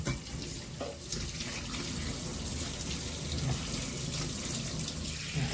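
Kitchen tap water runs steadily into a sink while vegetables are rinsed under it, a continuous close splashing stream with no talk.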